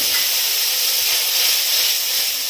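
A loud, steady sizzling hiss of spices frying in hot oil with onions, continuous and close, with no talking.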